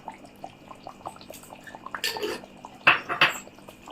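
A pot of fish curry with garam masala is stirred, giving soft scraping and wet sloshing sounds that build to a few sharper clinks of a spoon against the pot near the end.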